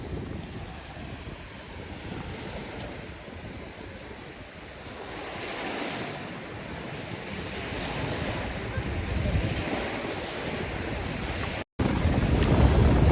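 Wind-driven surf on a gulf at Akyaka in winter rolls in continuously, waves washing and breaking under steady gusts buffeting the microphone, with a sudden louder burst near the end.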